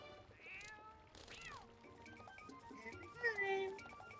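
A cat in the video game The Legend of Zelda: Twilight Princess meows several times in rising and falling cries, mixed with game music and effects at moderate loudness.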